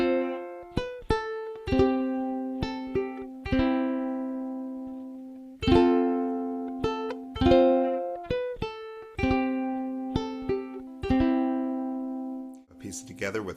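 A ukulele plays a gentle Silent Night melody with strummed chords, notes ringing out and decaying, repeated phrases, close and clear with no talking.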